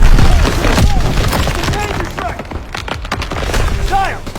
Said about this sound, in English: Gunfire! We must be near our guys.